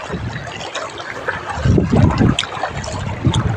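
River water flowing across a crossing point, a close, continuous rushing and churning with low rumbling swells throughout.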